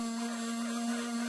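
A homemade CNC machine, built from DIY-store materials, runs with its router spinning, giving a steady, even hum with a strong sustained tone that holds throughout without breaks.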